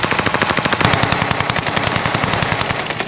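Automatic gunfire in a Caldera video game match, rapid evenly spaced bursts of shots rattling continuously and loud in the foreground.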